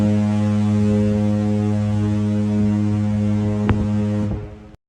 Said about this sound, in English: Theme of this cruise, the foghorn.